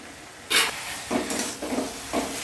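Fish dropped into a pan of frying ridge gourd and green chilli gives a sharp sizzle burst, followed by several softer hissing flare-ups as the pieces are stirred, close and steady.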